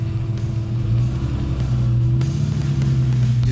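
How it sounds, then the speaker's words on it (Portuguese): A Chevrolet Caravan Diplomata with a 4.1-litre six-cylinder engine runs with a steady, deep droning hum that holds an even pitch throughout, close and continuous with no talking. "Vamos lá, vamos ver essa máquina rodando, ver o Fabiano dirigindo ele aqui de dentro"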